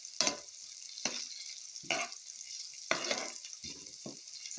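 Garlic (G1 variety) hitting a pan of hot oil, giving a few separate sizzling bursts that fade quickly, with stirring between them and no talking.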